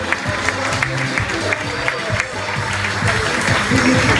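A crowd applauds a speaker, Dr. Juan Pablo Tamayo, with dense, sustained clapping and some voices mixed in, swelling a little toward the end.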